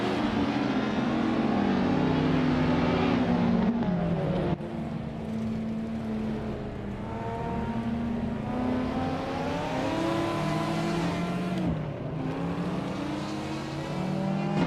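A 1997 Nissan Skyline GTR R33 race car in a racing video game revs hard in a sustained, droning engine note that rises and falls as it shifts through gears, loud and alone.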